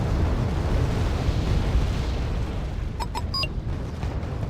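Explosions from a Jaguar jet strike in the strategy game Wargame: AirLand Battle, a continuous rumbling roar of blasts with a few sharp metallic pings near the end.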